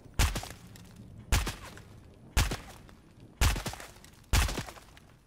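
Fortnite SMG bursts in rapid fire, five sharp separate shots at a steady pace roughly a second apart, each with a short decaying tail, loud and close with no talk.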